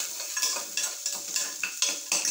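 Onions and mixed vegetables sautéing in a pan with ginger-garlic paste, heard alone as a steady sizzle broken by regular scraping stirs about every third of a second.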